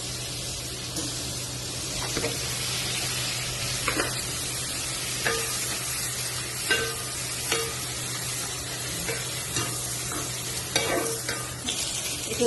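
Bacon sizzles steadily in a pan with butter while cooking, a dense continuous fry broken by scattered sharp pops and stirring clicks, close and without talk.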